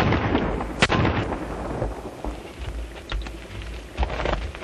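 Gunshots crack in a 1933 western film: one sharp shot stands out, followed by a couple of fainter reports over a rough, crackly background.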